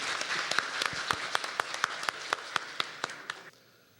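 Audience at an education symposium in Jeju gives a short round of applause, a fairly sparse patter of distinct claps at a moderate pace, some sharp individual hand claps standing out, fading out abruptly near the end.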